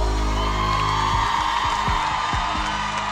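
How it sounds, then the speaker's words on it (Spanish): Live concert crowd at a Latin cumbia show cheering, whooping and applauding loudly and steadily, a dense continuous roar with music still ringing underneath. "Los aplausos."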